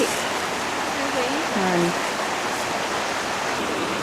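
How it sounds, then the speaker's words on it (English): A full creek at a farm in Cottonwood rushes steadily with a dense, broadband wash of flowing water, close and constant throughout, with a brief spoken word over it. "so here's the water headed down to the creek, and it's full today"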